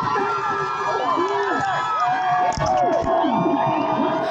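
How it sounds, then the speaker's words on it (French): A crowd at a street march in France cheers, whoops and shouts while police tackle a journalist to the ground; excited voices rise and fall loudly over a constant din. "La foule a acclamé pendant qu'on agressait une journaliste."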